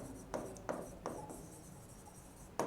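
Chalk or marker strokes on a classroom board during a physics lecture on wave optics, a few sharp, separate taps and scrapes spaced about a third of a second apart, quiet and close, with no talking.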